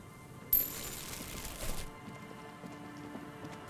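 In the video game Disco Elysium, paper tears in one sudden, loud, close ripping burst lasting just over a second, then fades to a low hiss.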